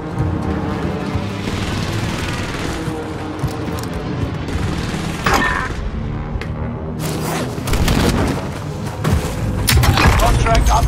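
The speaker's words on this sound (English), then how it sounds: "Airstrike incoming." Airstrike explosions in Call of Duty Warzone on Skull Island: loud, dense rolling booms and thuds keep going through the whole stretch, building into heavier blasts near the end, with game voice callouts over the top.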